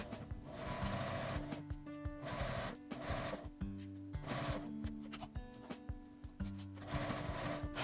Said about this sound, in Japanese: 布端を縫います。